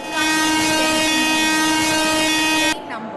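An Indian Railways train at a station platform sounds a loud, sustained, steady horn that cuts off abruptly near the end, leaving quieter station ambience.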